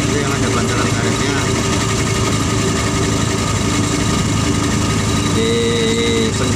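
A car engine running without its rubber engine mounts gives a loud, steady low idling drone with constant vibration, unbroken from start to end, with a voice talking over it.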